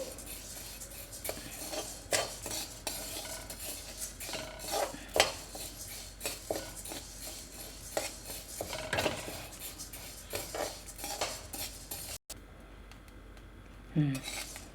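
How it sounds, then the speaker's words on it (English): Ragi and mixed grains frying in a pan over a high flame, with repeated scraping and clinking strokes of a utensil as they are stirred, fairly close and steady throughout. "The raw smell must go. Till then you have to fry it nicely."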